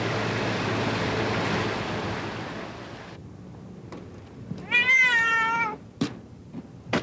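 A cat gives one long, close meow during a 1997 flood, heard after a stretch of steady wind and water rush fades, followed by a few sharp knocks.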